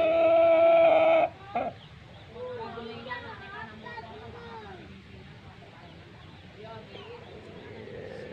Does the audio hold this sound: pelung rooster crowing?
yes